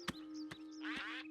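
A brown duck quacks in a children's cartoon, a few short nasal quacks spaced apart, then a longer raspy call over a steady soft background tone, fairly quiet.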